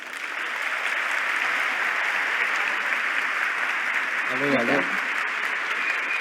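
Steady, loud applause from a large audience for a speaker after her talk at an entrepreneurs' fair, a continuous wash of clapping with a single brief spoken word near the end.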